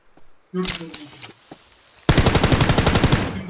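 Gunfire in the shooter game Ring of Elysium: a few scattered shots and clatter, then a loud sustained burst of rapid automatic fire with evenly spaced reports.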